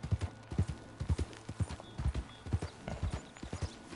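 Horse hooves thud in a regular trotting rhythm while riding along a river in Red Dead Redemption 2, each footfall a distinct, close, fairly quiet beat with no talk over it.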